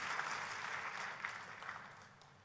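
A church congregation applauds during a sermon, a dense patter of many hands clapping that is fairly faint and distant and gradually tapers off.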